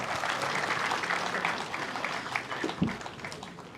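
An audience claps together to welcome the Chief Minister of Uttarakhand at a book launch, a dense, continuous patter of many hands that swells slightly near the end.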